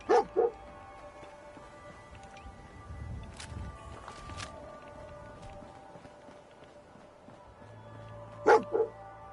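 A dog barks in the video game Fallout 4, with two sharp barks at the start and two more near the end, separated by quiet ambient game sound.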